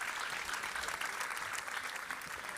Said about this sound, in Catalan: Un bon aplaudiment!